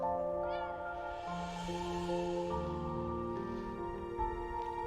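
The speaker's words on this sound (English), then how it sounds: "I'm gonna miss you, Mr. Kitty!" A cat in the video game Impostor Factory gives a short meow over steady game music that plays throughout, faint and brief.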